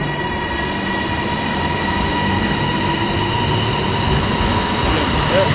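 A Thailand metro train on the airport line rumbles steadily along the track with a constant droning hum and faint wheel whine, loud and close, heard from inside the car.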